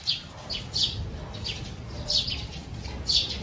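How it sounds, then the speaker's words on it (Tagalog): Birds chirp repeatedly in short bursts, several calls overlapping at a moderate distance over a low steady background hum. "Daming ibon na naririnig niyo po ba? Sobrang dami."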